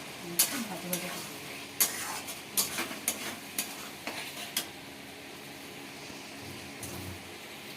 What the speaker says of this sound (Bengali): আলুটা একটু ভাজা ভাজা করে